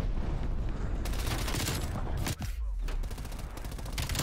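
Dense, sustained MP5 submachine gun fire in Black Ops Cold War multiplayer, loud rapid bursts filling the whole stretch with a brief dip midway, close-range fighting with game effects underneath.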